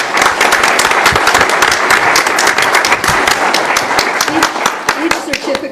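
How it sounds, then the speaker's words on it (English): Applause at a city council meeting honoring employees, with many hands clapping in a dense, close indoor burst that continues steadily while a few voices murmur underneath. "So I'd like to give them a round of applause."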